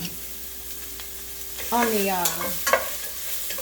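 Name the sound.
spinach, mushrooms and onions stirred in frying pan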